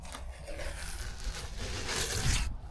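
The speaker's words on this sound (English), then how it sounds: "I'm gonna peel the tape off and let it dry" Masking tape is peeled slowly off a freshly painted panel of a rusty old Blazer, making a faint, continuous ripping and rubbing sound that swells toward the end, outdoors with no voices.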